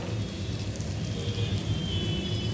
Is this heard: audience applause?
no